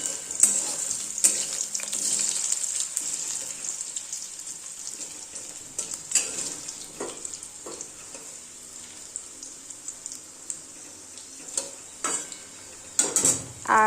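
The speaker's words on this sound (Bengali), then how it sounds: "আলুটাকে ভাজতে বসিয়েছি।" Potatoes frying in a pan, a steady hiss of oil running throughout with scattered clinks and scrapes of stirring, fairly close and moderately quiet, no talking.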